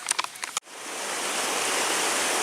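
A stream along the Manistee River Trail flows with a steady broadband rush that starts abruptly after a brief moment of faint sounds and continues close and even to the end.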